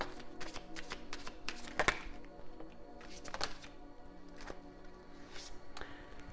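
Oracle cards with fairy artwork are shuffled by hand, soft riffling and tapping in short bursts with a few sharper clicks, close and fairly quiet, no talking.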